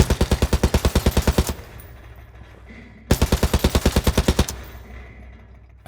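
Rapid automatic gunfire from a video game weapon, two loud sustained bursts each about 1.5 seconds long, separated by a ringing tail as nearby objects resonate and decay.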